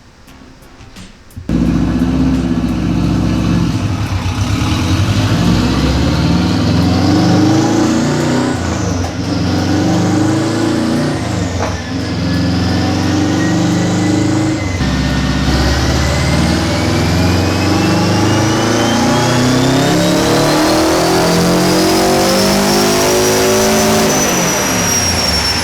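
A Subaru-powered Saker RapX sports car engine runs loud and close on a dyno. After a brief quiet start it roars continuously, with repeated rev swells and then a long climb in pitch.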